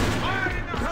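Gunfire in Alliance of Valiant Arms during an esports match, a dense burst of shots with a pistol finishing shot, layered under excited commentary and game noise.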